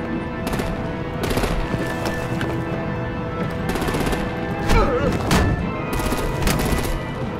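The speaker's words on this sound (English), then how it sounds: "Break out the artillery and disable their vehicles!" Bursts of rapid machine-gun fire and artillery crack out again and again in Batman: The Enemy Within, loud and close, over a steady noisy battle bed with intermittent heavier impacts.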